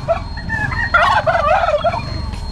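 Village turkeys gobble in close, loud, rippling calls that come in overlapping bursts, with no talking over them.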